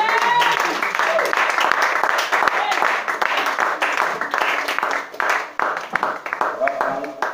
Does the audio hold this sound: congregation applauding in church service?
yes